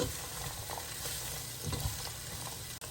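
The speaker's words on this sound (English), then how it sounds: "go in with a little bit of olive oil, about a tablespoon or two, and then just go ahead and dump the onions in. Start to saute these." Onions sautéing in a tablespoon or two of olive oil on a stovetop, a dense close sizzle with light stirring, steady and alone without any voices.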